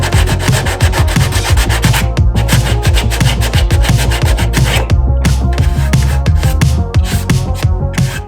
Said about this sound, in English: we're gonna use some sandpaper to clean up and break the paint so we can get this cement to stick. So I'm gonna hit it with some 80 grit first